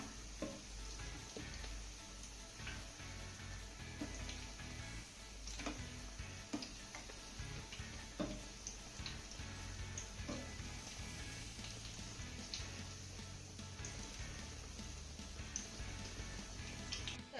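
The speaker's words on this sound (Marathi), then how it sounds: "लो टू मिडियम वरतीच आपल्याला हे वडे फिक्कट सोनेरी रंगावरती तळून घ्यायचे आहेत" Vadas frying in oil over a low-medium flame, fasting snack: a faint, steady sizzle with light ticking crackles and occasional small pops, continuous and without talk.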